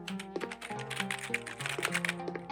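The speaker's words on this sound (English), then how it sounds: "I was pressing random keys and it was writing stuff" Random keys pressed rapidly on a computer keyboard, a fast irregular run of clicks over a steady tonal background.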